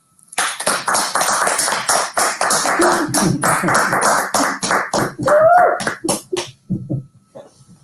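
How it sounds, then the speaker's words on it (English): Applause from a conference audience at a civilian-protection event, a steady round of clapping for several seconds that thins out toward the end, with no talking over it. "I would very much like you to come here and be visible and receive your well-deserved round of applause."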